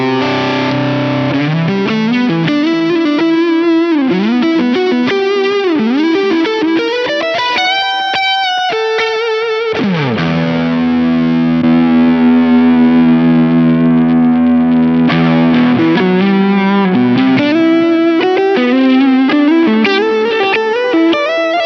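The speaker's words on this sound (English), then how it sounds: "let's bring the compressor in now." An electric guitar through a Ross compressor pedal plays sustained notes and bends with a heavily effected, distorted and evenly squashed tone, ringing loud and close without any talking.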